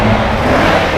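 Mercedes C63 engine in Monaco, a steady loud car engine drone with a broad rumbling tone throughout, close by and with no voices over it.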